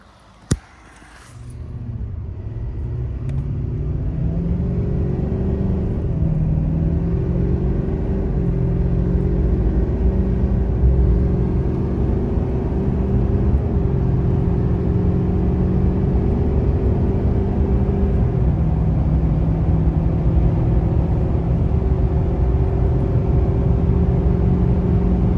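A truck carrying two new Normand hybrid blowers strapped down on the highway: steady, loud engine drone and road rumble that builds after a short thud at the start and holds evenly with shifting tonal hum, no talk.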